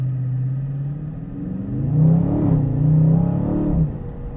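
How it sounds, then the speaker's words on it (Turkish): A 2021 Dodge Charger Scat Pack V8 idles with a deep, steady rumble, then revs twice in rising and falling swells before settling, close up and loud, with no talking. "Gerçekten aracın sesi çok iyi."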